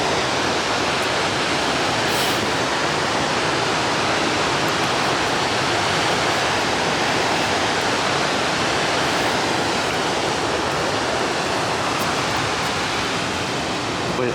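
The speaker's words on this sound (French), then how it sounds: "Ah ouais, c'est vachement une belle cascade, hein, franchement." A powerful waterfall in Norway roars in a dense, continuous rush of white water, loud and close, with no talk over it.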